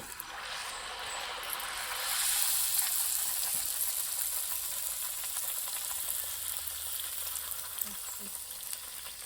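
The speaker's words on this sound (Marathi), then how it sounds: "आणि ही जाऊबाई वडे तळण्यात बिझी आहे" Chicken vadas deep-frying in oil over a wood-fired stove, a steady bright sizzle and crackle that holds close and loud throughout with no talk.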